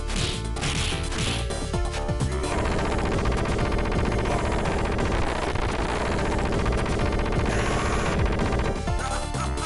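Boss gunfire in the Streets of Rage 2 video game, a loud, dense run of rapid synthesized shots and crashing hits packed over the game's driving music, continuous for the whole stretch with no talk.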